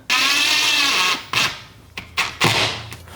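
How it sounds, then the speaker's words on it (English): A power drill whirs steadily for about a second, then several shorter bursts follow as the trigger is pulsed, loud and close, drilling into a wall for a wooden accent wall in a garage. "we will begin drilling"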